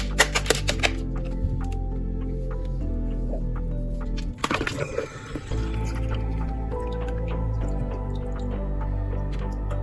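Water drips and splashes from an opened prefilter on an Oase aquarium pump, with a run of irregular wet drops and squelches, a louder messy gush midway, under a steady low pump hum.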